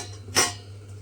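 A lid lifted from a pot of mung beans and potatoes simmering on a gas stove over low heat: one brief metallic clink close by over a faint low hum.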